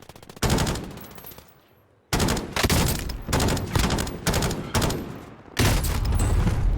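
LAPA SMG gunfire in a video game comes as several loud, close bursts of rapid automatic fire separated by short pauses, with one longer gap after the first burst.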